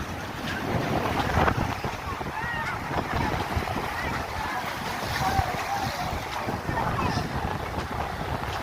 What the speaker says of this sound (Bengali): সাগরের ঢেউ